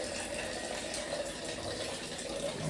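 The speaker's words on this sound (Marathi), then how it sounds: "जारमध्ये पाणी भरत आहे" Water pouring steadily into a jar for chilling in a home fridge, a continuous close splashing fill with no voices, steady in level throughout.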